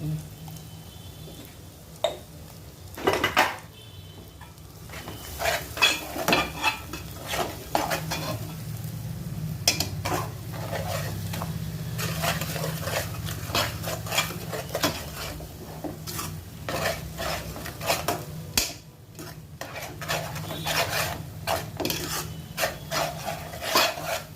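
Garam masala powder being fried and stirred in a pan for gonguura raw prawn pickle, a steady sizzle under continual rasping scrapes of a spoon against the pan, close and fairly loud with no talking.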